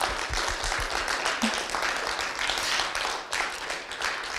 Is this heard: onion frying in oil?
no